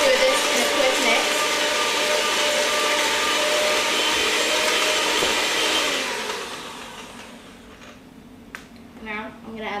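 Brownie batter mixed at home with an electric mixer, a steady loud whir running for about six seconds before dropping away to quieter handling sounds.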